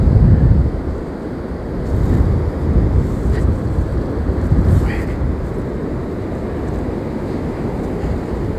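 Strong hurricane wind buffeting the microphone on Anapa beach, with rough sea waves surging and breaking in a continuous loud roar.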